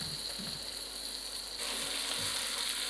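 Masala sizzling steadily in ghee for a mixed potato, pea and carrot curry, a dense, even crackle close to the pan with a few faint stirring scrapes.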